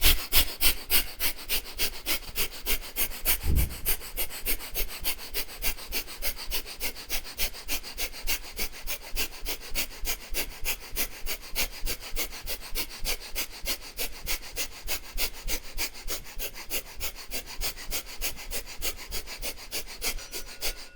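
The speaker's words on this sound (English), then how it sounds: "we're going to perform breath of fire." Rapid, rhythmic breath of fire from Kundalini yoga, with quick forceful exhalations through the nose repeating evenly and close for a long stretch, each one sharp and sniff-like.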